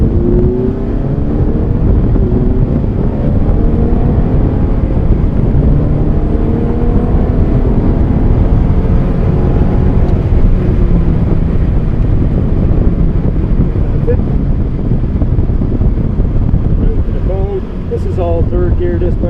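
A Fiat driven in third gear on a cone course, its engine droning steadily and loudly throughout with rising and falling pitch as it accelerates, wind buffeting the microphone, and an instructor's voice speaking over it.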